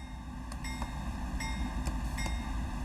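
Diesel locomotive in a Boston–Worcester train simulator game pulling away from a stop during shunting, a steady low engine rumble with periodic faint clicks and hisses, alone and without talk.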